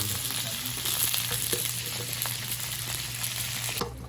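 Oil sizzling steadily in a pan at the start of cooking a chicken curry, a continuous close frying hiss with faint crackles and a scrape near the end, no talk.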